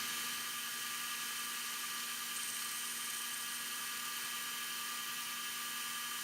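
An Atlas metal lathe runs steadily, turning mating tapers in a brass piece and a steel point, giving a continuous high-pitched motor whine and hum with a faint cutting hiss that stays even throughout, with no voices.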